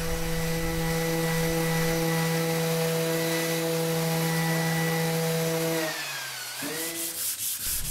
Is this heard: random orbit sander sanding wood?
yes